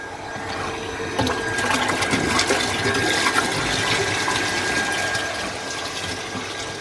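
A pressurised water spray from a motor pump washes motorbikes on a festival day, a steady hissing gush that runs loud and continuous for several seconds, with no voices.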